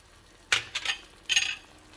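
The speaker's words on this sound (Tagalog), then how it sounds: "Kailangan halu-haluin siya para matansya nyo yung consistency ng sabaw niya." Spoon stirring cornstarch-thickened sauce for tilapia escabeche in a pan, two short bursts of scraping and gentle sizzle separated by a pause, close and fairly quiet.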